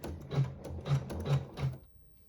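A sewing machine stitches a seam through layered fabric pieces with neutral thread, giving four short, evenly spaced bursts of mechanical whirring before stopping, close and fairly quiet.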